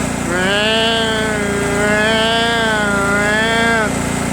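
A Craftsman LT1000 lawn tractor engine runs close by, surging under load with the blades engaged: a loud, steady drone held throughout while someone talks over it.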